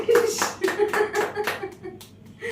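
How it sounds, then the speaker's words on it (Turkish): A few people clap in short uneven bursts on a home cooking video shoot while voices talk over the claps. "Evet alkış."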